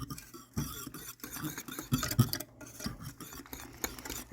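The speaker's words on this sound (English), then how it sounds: "we will whisk" A whisk working through a sauce in a pan over low heat, giving soft, rapid, irregular scraping and tapping, close but fairly quiet, with no talking.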